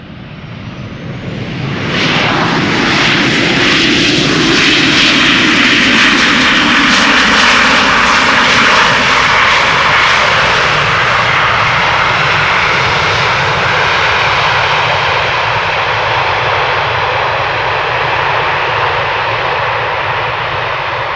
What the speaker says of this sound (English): when a 737 uses full reverse, it gets loud